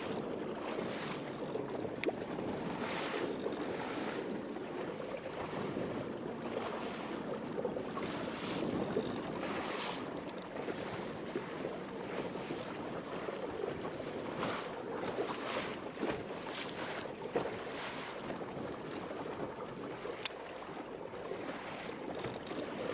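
A bass fishing boat runs across a lake at speed, with a steady outboard drone and rushing water and wind noise, continuous and moderately loud with no talk.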